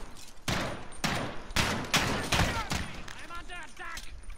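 Rapid bursts of video game gunfire ring out in quick succession, sharp repeated shots close by, ending in a few fainter pings.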